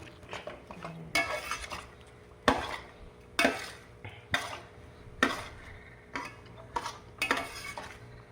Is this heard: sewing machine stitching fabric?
no